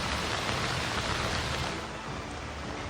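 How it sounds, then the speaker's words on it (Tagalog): Heavy, unbroken rain in Batangas during flooding and landslides, a dense steady hiss of downpour with no voices over it. "Walang tigil na ulan din ang naranasan ng mga taga Batangas."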